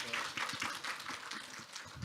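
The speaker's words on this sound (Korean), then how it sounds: "많은 박수로 맞이해 주시면 감사하겠습니다" Audience applause at a Korean geoscience conference welcoming a mineral resources researcher to the podium: a steady, dense patter of clapping that holds for about two seconds at moderate level, with no speech over it.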